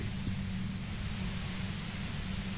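Steady, unbroken white noise from the game Disco Elysium, a dense even hiss with a low rumbling band beneath, holding at constant loudness with no voices.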